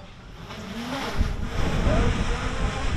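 Wind gusts buffet the microphone outdoors, rumbling low and growing stronger partway through, with a wash of water-like noise behind it, while a DJI Mini 3 Pro drone is hand-launched and landed.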